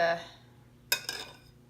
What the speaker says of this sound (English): I use a spoon sometimes, and I scrape